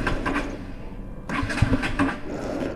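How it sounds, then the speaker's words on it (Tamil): A KTM RC 200 motorcycle engine fails to start on a roadside stop, with two short bursts of starter cranking and sputtering separated by a brief pause, close and fairly loud, with no talking. "இங்கேயே ஸ்டார்ட் ஆக மாட்டேது."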